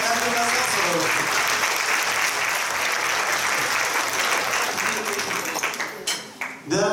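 Loud, dense applause from a large crowd at an orchestra's opening event fills the clip steadily, thinning out near the end.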